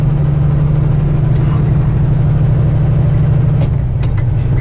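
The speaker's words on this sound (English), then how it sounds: "you hear that sound, like boop, boop, boop, boop, boop, boop. That's always when the engine is cold" A cold truck engine drones steadily and loudly up close at around 45, with a pulsing low boop-boop rumble throughout and a few brief hissing bursts near the end.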